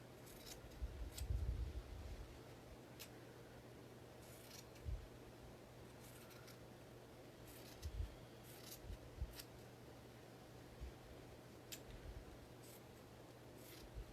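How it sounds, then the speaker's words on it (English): Scissors trimming seam allowances on a sewn fabric mask: quiet, close snips come in short clusters with pauses between them over a low, steady hum. "I'm trimming my seam allowances in half."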